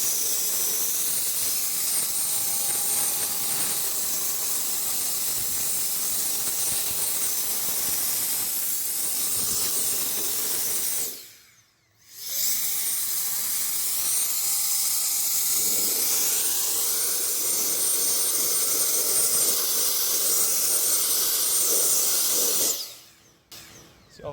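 Battery-powered DeWalt blower drying a car, a loud, steady airy rush with a faint whine, cut off briefly near the middle and again at the end before restarting.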